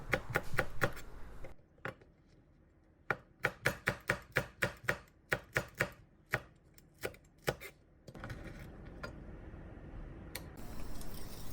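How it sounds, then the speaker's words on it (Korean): Garlic cloves and a chili pepper sliced thin with a knife on a cutting board, a quick rapid run of crisp chops, then a steadier series of close, sharp cuts with short pauses between bursts. "양념에 넣어줄 마늘 3알, 고추 하나를 얇게 썰어주세요."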